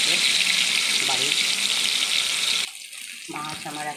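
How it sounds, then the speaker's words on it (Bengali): Fish pieces fry in a pan for a homestyle fish curry with okra and potato, a loud, dense sizzle that cuts off abruptly near the end, leaving a quieter stretch with faint tonal sounds. "আমি মাছগুলো দিয়ে দিলাম ভাজার জন্য।"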